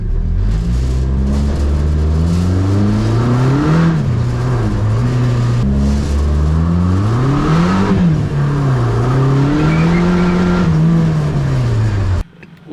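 A Chevy Sonic Turbo car revs repeatedly on a test drive, its loud engine tone climbing and falling in several surging waves close to the listener before cutting off abruptly at the end.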